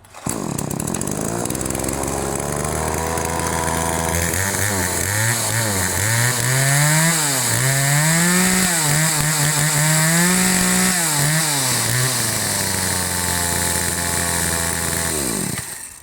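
A KANTO KT-CS1700E chainsaw with an 11.5-inch bar runs close by. It starts at a buzzing idle, then revs up and down in repeated surges before dropping back to idle and cutting off.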